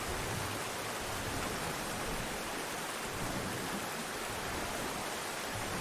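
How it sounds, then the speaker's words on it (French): Rushing waterfall in Far Cry 5, a dense continuous roar of falling water spread across the whole range, steady and full throughout with no talk. "Je suis en train de remonter une cascade à contre-courant."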